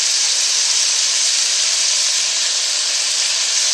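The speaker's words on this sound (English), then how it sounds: "I'm going to put these right in there. And start a browning." Squirrel pieces, whole squirrel cut up, browning in melted butter in a pan over lowered heat, giving a steady, loud, even sizzle and hiss that runs unbroken throughout with no talking.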